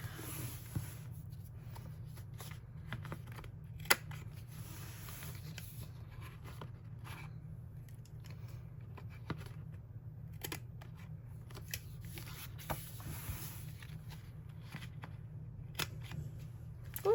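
Scissors snipping through paper and thin washi tape while planning a dutch door journal spread, a steady run of soft, close cuts and rustles over a low steady hum.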